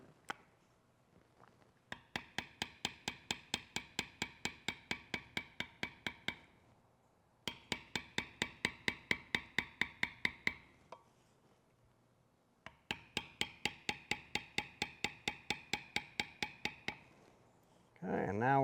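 A metal beveler tool struck with a mallet on leather for a trading card project: three long runs of rapid, evenly spaced taps, close and moderately quiet, separated by brief pauses.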